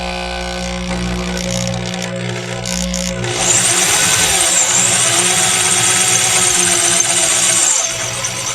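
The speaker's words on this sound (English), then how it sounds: "So now I'm going to pull the drill out." A steady power-tool drone runs throughout, shifting to a harsher, brighter grinding whine partway through as an electric drill bites into the wood of a banjo ukulele.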